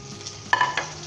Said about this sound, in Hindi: अब हम इसके अंदर ये अपनी सब्ज़ मिर्चें शामिल कर देंगे